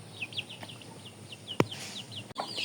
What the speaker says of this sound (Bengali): আর এই ঘরে দেখেন এই যে মুরগি চলে আসছে।